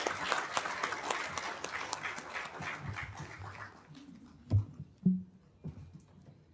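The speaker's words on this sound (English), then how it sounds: "please join me for a big applause for our panelists" Audience applause for panelists that fades out over several seconds, followed by a few isolated thumps and faint murmurs.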